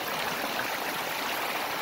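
Water rushes steadily through a broken-open beaver dam, a continuous close, full broadband flow with no voices, lasting under two seconds.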